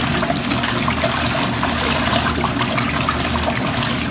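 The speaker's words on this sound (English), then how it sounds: "this is how it works to actually wash the clothes" A mini portable washing machine churns clothes in water inside a bathtub, a continuous close sloshing and swirling wash sound that holds steady for several seconds with no speech.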